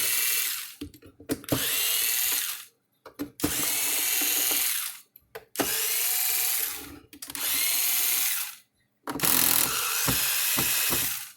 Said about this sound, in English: So we'll take all the screws loose.